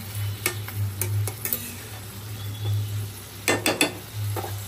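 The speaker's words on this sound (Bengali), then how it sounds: "জাস্ট আপনাদের সাথে শেয়ার করার জন্য একটু খুন্তি দিয়ে নাড়া দিলাম" A spatula stirs bitter gourd and shrimp frying in a pan, with a soft sizzle running underneath and a few close, sharp metal scrapes and taps breaking through in short bursts.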